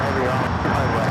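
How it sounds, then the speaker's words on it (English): A heavy jet airliner rolls for takeoff on the south side of Los Angeles airport, its engines giving a continuous broad roar for the short moment heard. "Next heavy takeoff here on the south side."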